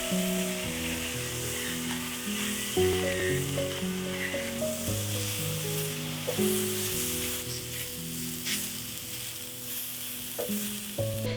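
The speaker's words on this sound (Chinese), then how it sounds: "用高温把蘑菇煎成金黄色。" Mushrooms fry over medium-high heat in a pan, browning to golden with a soft continuous sizzle and occasional stirring, while quiet background music plays over the cooking.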